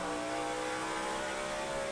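NASCAR race car engine at New Hampshire throttling up onto the straightaway, a loud, continuous high-pitched roar with a sustained rising whine, heard alone without talk.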